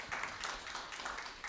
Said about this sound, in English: Join me as we welcome Laura with a round of applause there